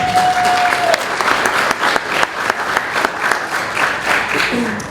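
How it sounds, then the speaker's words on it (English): Gala audience applauding at a community celebration dinner, a loud, sustained round of clapping from many hands with scattered sharp claps and a brief voice or whistle-like tone near the start. "Give yourselves a round of applause for that."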